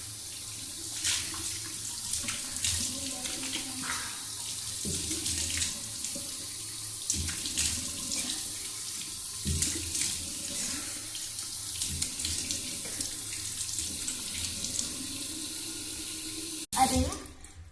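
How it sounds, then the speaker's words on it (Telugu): Hands are washed under a running tap in a home bathroom sink, water splashing continuously with shifting gurgles as the hands move through the stream, ending in a brief clatter. "ఫస్ట్ మీరు ఇలా హ్యాండ్ వాష్ చేసుకొని"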